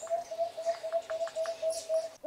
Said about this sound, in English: 33, acacia pied barbet.